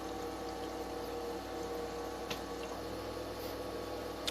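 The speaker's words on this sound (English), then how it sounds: "It is filling up for another round. You can probably see the water pouring in." An Igloo portable ice maker fills with water, a faint steady pump hum and trickle running continuously with occasional small ticks, no voices.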